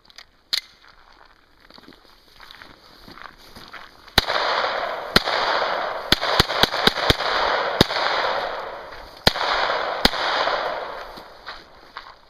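A Sig Sauer Mosquito pistol firing Remington lead hollow points, sharp loud cracks outdoors, first isolated shots and then a quick irregular string, over a steady hissing background.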